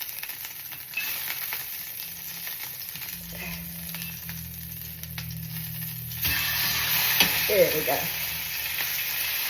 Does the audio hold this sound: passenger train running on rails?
no